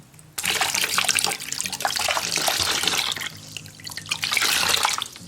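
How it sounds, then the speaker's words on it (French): Water runs steadily from a tap while a face mask is rinsed off, a close, continuous splashing rush that starts abruptly and shifts in intensity as hands move under the stream. "Une fois que c'est bon, vous rincez."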